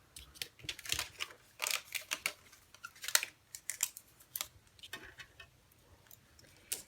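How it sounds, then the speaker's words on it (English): Paper punch cutting a stamped cardstock shape for a Christmas fox planner clip, heard as a run of sharp crisp clicks and crunches in uneven bursts, close up with no voice. "Gonna want to cut this, or not cut it, but punch it right out, and you'll punch this guy right out."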